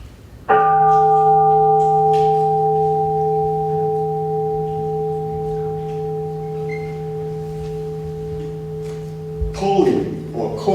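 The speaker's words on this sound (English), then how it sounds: "Tolling or calling bell." A large Buddhist temple bell at a US temple is struck once, loud and close. It rings out as a steady, sustained tone that slowly fades over several seconds, and faint talk and a rustle are heard near the end.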